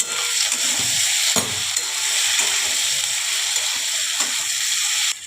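Ivy gourd and potato curry with turmeric sizzling steadily in hot oil in a pan, a continuous close frying hiss broken by a few clinks and scrapes of stirring.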